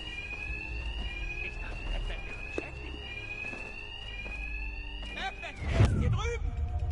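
Alarm in the video game Batman Arkham Knight, a steady high ringing tone that drones continuously under game sounds and a voice talking, then bends and breaks off near the end amid a louder thud.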